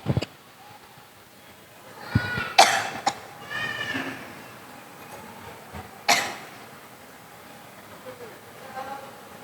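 A speaker giving a public talk coughs a few sharp times amid ongoing speech, the bursts close and abrupt against a low room background.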